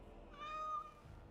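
Ser Pounce-a-lot, a cat in the Dragon Age game, gives a single clear, drawn-out meow at moderate distance over a quiet background hum.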